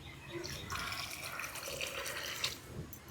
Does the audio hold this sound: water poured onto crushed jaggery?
yes